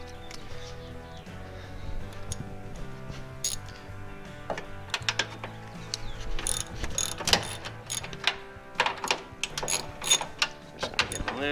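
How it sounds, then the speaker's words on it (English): Ratchet wrench unbolting a Ford F250 tow mirror, with rapid clicking bursts and sharp metallic taps that grow busier and louder toward the end, close up with no talk. "we can go ahead and unbolt this bad boy."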